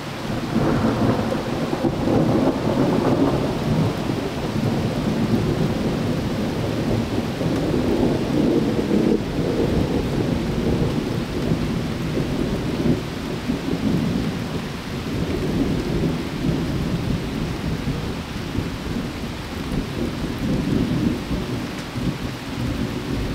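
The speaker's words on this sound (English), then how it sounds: "today was an exceptional day because a thunderstorm rolled through and cooled things off nicely." A thunderstorm gives constant heavy rain with deep rolling thunder that swells and rumbles throughout, loud and close, with no voices.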